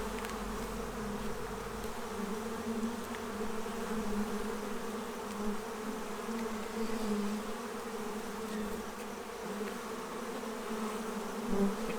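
Honeybees from a Saskatraz colony buzz steadily and close around hive frames of brood as they are moved between hives, a dense continuous drone with no talk.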